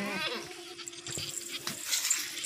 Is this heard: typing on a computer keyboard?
no